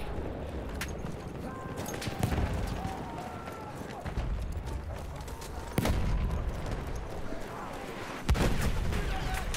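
Gunfire and explosions from the Battlefield 1 video game sound at mid distance, with sharp shots and several heavier blasts punctuating a busy battle din while a player talks over them.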